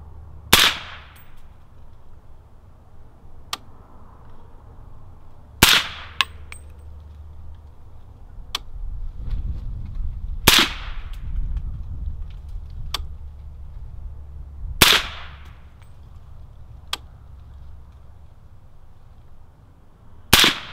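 Suppressed rifle shots from a Maxim Defense PDX in 7.62 fitted with a silencer, five loud, sharp reports spaced several seconds apart on an outdoor range, with quieter clicks and handling noise between them.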